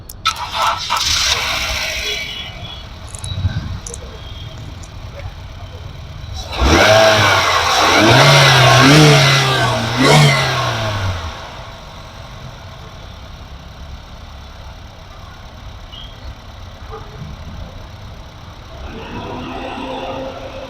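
A 2015 Honda City petrol car in very good condition cranks and starts, its engine surging loudly for several seconds before settling into a smooth, quieter idle, with light rattles and handling noise at the start and end.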